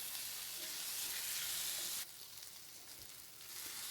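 Onion and tomato sautéing in a pan for veg Maggi masala noodles give a steady, close frying sizzle that drops slightly halfway through and then swells again, with no talking.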